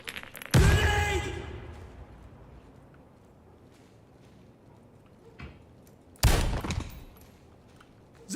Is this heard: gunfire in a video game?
yes